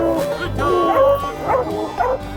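Hunting dogs baying on a raccoon trail in Oklahoma woods, a chorus of wavering howls and yips rising and falling close by, with faint voices mixed in.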